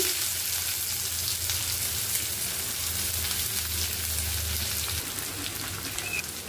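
Chopped onion hisses and sizzles in a hot pan for a chicken curry, a dense, even frying crackle that holds steady throughout with no voices.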